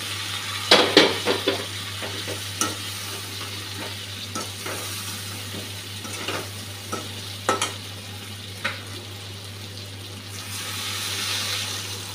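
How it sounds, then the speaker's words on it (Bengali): Boiled eggs and potatoes fry in spiced masala of ginger paste for an egg curry, giving a soft continuous sizzle under a low steady hum, with scattered clinks and scrapes of a spoon stirring the pan. "ডিম আলুটা দিয়ে দিচ্ছি।"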